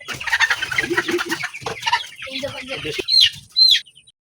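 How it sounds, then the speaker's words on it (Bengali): Chickens in a pen cluck and squawk close to the microphone in busy, overlapping bursts, ending with a couple of sharp higher calls. "আমার মুরগিগুলো আমি ওই সাইডে আটকে ফেলেছি"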